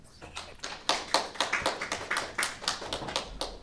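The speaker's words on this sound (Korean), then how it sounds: "유튜브 내에서도 큰 박수 부탁드리겠습니다" A few people clap at a child policy forum in Korea as a panelist is introduced, producing a quiet, sparse run of distinct, close handclaps with uneven rhythm over several seconds.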